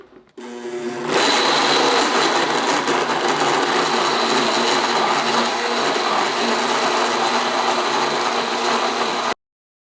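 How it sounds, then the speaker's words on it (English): A blender purees tomatoes, celery, garlic and orange juice, spinning up after a brief start and running at a loud, steady whirring roar for about eight seconds before cutting off abruptly. "We're just gonna blend the tomatoes, celery, garlic, and orange juice together first."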